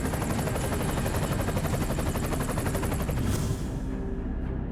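Black Hawk helicopter in a video game, a loud continuous rotor thrum with rapid blade chop, steady and close throughout, easing slightly near the end.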